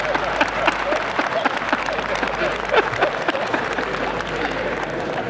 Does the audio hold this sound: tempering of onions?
no